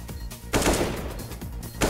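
Rifle spray in Counter-Strike: Global Offensive at a PGL Major match, several quick bursts of gunfire in uneven clusters, moderately loud against crowd and arena noise.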